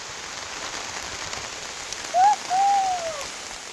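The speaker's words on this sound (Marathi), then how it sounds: "लांबूनच पाऊस येतो हे दिसतंय, पावसाने जोरदार हजेरी लावली आहे" Steady rain falls near the Shri Khandoba temple at Mulgav, Badlapur, a constant even patter and hiss, with a brief thin whistle rising over it near the end.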